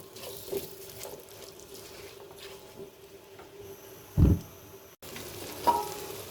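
Chopped onion and whole garlic stirred in a pan, heard as a soft continuous frying hiss with light scraping, one louder knock partway through and a brief cut before the sizzle resumes.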